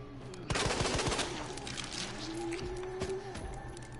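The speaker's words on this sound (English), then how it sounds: "So I do some shots here in the leg so I can save ammo here." Gunfire in the Resident Evil 2 video game, several shots aimed at an enemy's leg: a quick burst of sharp shots near the start, then a lingering game ambience with a few scattered later hits.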